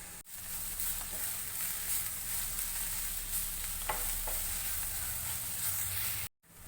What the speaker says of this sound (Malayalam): ഇനി 2 സ്പൂൺ മുളക് പൊടി ഇട്ട് ഇളക്കി കൊടുക്കാം.